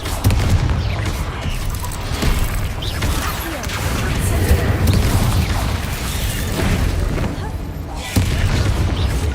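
Confringo blasting spells explode in the Hogwarts Legacy video game. A steady run of booming impacts and crashing blasts sounds loud and dense throughout, with a voice mixed in among the game noise.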